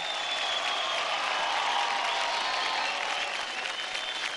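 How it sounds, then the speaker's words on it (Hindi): A studio audience at a televised children's dance competition grand finale, loud dense applause with some cheering, a continuous wash of clapping that holds steady for several seconds. "जोरदार ताली हो जाए"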